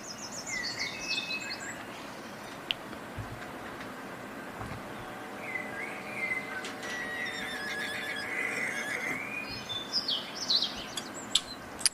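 A horse whinnying in a high, wavering neigh at the start and again toward the end, over a dense, steady outdoor-like ambience with faint bird chirps.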